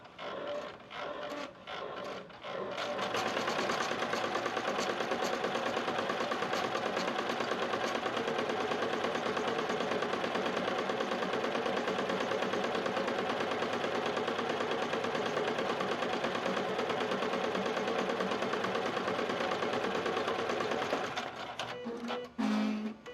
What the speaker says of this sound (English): now I'm going to stitch that hole on the left